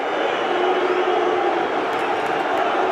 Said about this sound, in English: One of the travelling Plymouth fans giving him warm applause